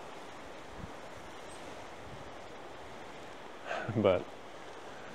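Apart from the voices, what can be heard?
strong wind blowing at a creek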